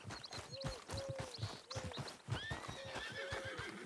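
Repeated horse whinnies with steady clip-clop hoofbeats underneath in the video game Red Dead Redemption 2, several neighs rising and falling across the stretch, fairly close and clear.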